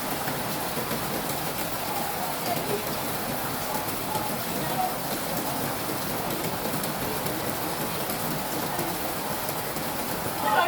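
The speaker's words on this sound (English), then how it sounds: "It's still raining." Steady rain falls during a wet weekend in Ghana, a dense even hiss of drops on surfaces that holds at one level for about ten seconds, with faint voices now and then in the background.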